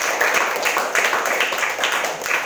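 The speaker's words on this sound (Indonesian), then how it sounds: "Tepuk tangannya." An audience at a karate organization gathering claps steadily together, with a dense, rhythmic patter of applause that stays fairly close and even throughout.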